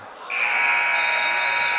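Scoreboard buzzer ending a quarter at a high school boys basketball game, Ellenville vs. Webutuck: a loud, steady electronic tone starts abruptly and holds without a break, with faint gym noise before it.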